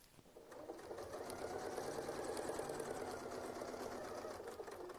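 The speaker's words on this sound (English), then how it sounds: "We're going to sew up to the line, hop over, sew the curl, reinforce it, and come back." A sewing machine stitches a quilt block in a steady, even mechanical whir that holds for several seconds at a moderate level, with no talking.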